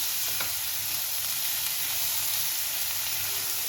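Finely chopped onion frying in a pan for prawn curry, a steady, close sizzle with a soft stir near the start and no pauses.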